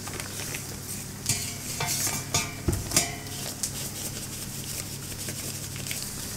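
Pointed cabbage fries in a pan with a steady close sizzle, while a utensil stirs and scrapes against the pan in several distinct clinks and scuffs.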